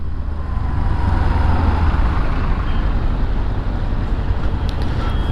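Dense road traffic passes while a rider is on a Bajaj CT 125X motorcycle. Heavy engine rumble and the roar of trucks or buses stay loud and close throughout, with a brief hiss near the end and no voices.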